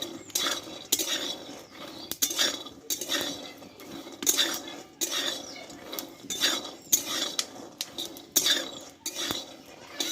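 Peanuts being dry-roasted in a pan rattle and click against the metal in repeated bursts as they are stirred, with sharp crackles and taps over a faint sizzle.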